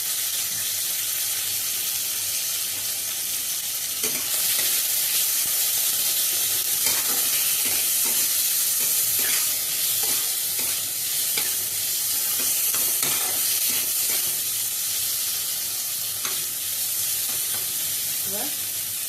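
Chopped tomato and ginger paste fry in a pan with a steady, bright hiss and sizzle, broken by faint scraping stirs now and then, continuing evenly for nearly twenty seconds.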